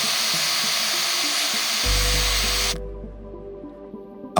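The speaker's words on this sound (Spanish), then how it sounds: "Lo calentamos con el soplete. Y soldamos el tapón y el tubo de la válvula." Blowtorch flame roaring steadily as it heats a valve tube and cap for soldering on a mini fire-powered refrigerator's boiler, a broad hiss that drops away partway through, leaving a low rumble.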